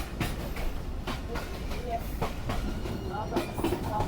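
Sialkot Express passenger train running on the rails between Lahore and Sialkot, a steady rumbling rattle with repeated clicks from the carriages, continuous and fairly close throughout.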